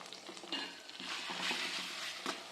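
Tomatoes tipped into a hot frying pan, hissing and sizzling steadily, with a short clatter of stirring at the start and another near the end. No one speaks.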